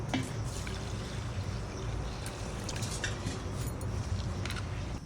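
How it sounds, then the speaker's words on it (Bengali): Red lentils (masoor dal) are rinsed in water, producing soft, low sloshing and quiet trickles with occasional small splashes, faint and continuous throughout. "ডালটা ধুয়ে নেব।"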